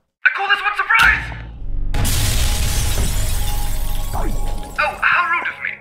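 Objects smashing in the gravity-manipulation game Gravitas: a loud crash and prolonged shattering clatter of breaking debris, with a character's voice speaking before and after.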